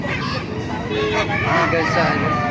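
Geese honk amid a busy market stall at Baliuag tyangge where brown and white geese are sold. The calls are close and repeated, and chatter and crowd noise run under them.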